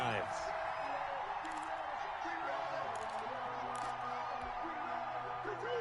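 A football stadium crowd roars and cheers steadily as the home defense holds on the opening drive, with a commentator's voice over the broad, continuous crowd noise.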